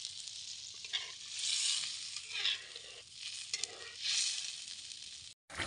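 Food fries in a pan with a steady, close sizzle that swells and fades in waves as it is stirred, with scraping bursts and a brief silent break near the end.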